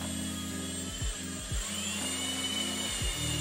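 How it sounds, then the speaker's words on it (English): A drill whines steadily while boring a small hole for a key, its pitch dipping several times as the bit loads up under pressure and recovers, close and unbroken for the whole stretch. "I just drilled that little hole"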